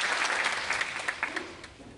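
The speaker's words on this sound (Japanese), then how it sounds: "はい、じゃあ、一旦拍手をください。" An audience at the closing of the YAPC::Asia Tokyo 2013 conference breaks into a short burst of applause that starts full and gradually thins out within about two seconds.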